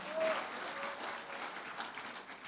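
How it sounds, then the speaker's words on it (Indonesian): An audience applauding for the sponsor at a master class event: a steady, moderately loud patter of many clapping hands, fairly distant, with a faint voice briefly audible underneath. "berikan aplaus kepada sponsor kita"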